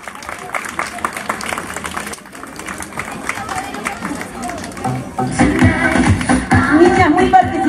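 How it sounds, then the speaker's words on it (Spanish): An audience at a year-end exhibition breaks into applause for a teacher, a burst of clapping and crowd noise swelling loudly over the last few seconds after a stretch of quieter murmuring and talk. "fuertes palmas para la profesora Barbarita Ramos Kiwas"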